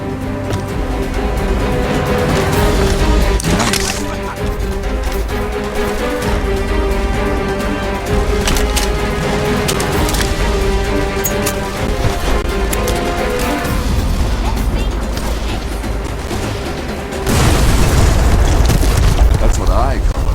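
A rockfall explosion used as a distraction in the video game Deadfall Adventures booms loudly with a long rumbling, crashing roar, merging into dense game sound, and a fresh heavy burst near the end.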